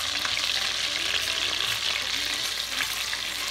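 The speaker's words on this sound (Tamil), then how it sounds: "பூண்டை போட்டு நல்லா கிண்டி வச்சுட்டு அது கொஞ்சம் பொறிஞ்சு ஒரு பொன்னிறமாக வரட்டும்." Garlic frying in a mix of oil and butter for pasta aglio e olio, a steady close sizzle with faint stirring scrapes throughout, no talking.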